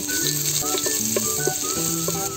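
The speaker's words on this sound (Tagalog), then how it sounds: "Magigisa na tayo." Ginger, garlic and onion sautéing for Antique-style beef linahab in a hot pan, a steady close sizzle with faint background music, no talking.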